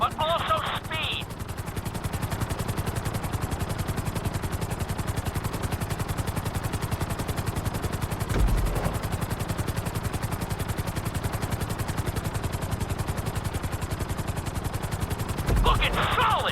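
Helicopter in GTA 5 flight school, a steady rotor chop with dense rhythmic thumping held throughout, loud and close, with brief higher mechanical bursts near the start and end.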